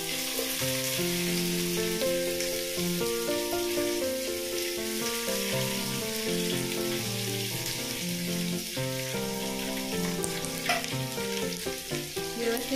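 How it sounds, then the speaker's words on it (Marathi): Chopped onion with bay leaf fries in a pan, giving a constant soft sizzle with no talk, set under prominent melodic background music. "आता कांदा आपण व्यवस्थित भाजून घेऊया"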